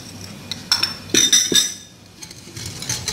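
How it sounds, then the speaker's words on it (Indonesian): A spoon stirring sugar into milk for pancake batter, clinking against the bowl in a few bright taps and scrapes with quieter gaps between. "Kita aduk terus sampai gulanya mencair."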